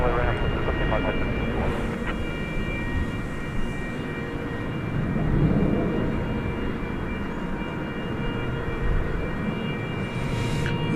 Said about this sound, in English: That's another Cessna 208B Super Cargo Master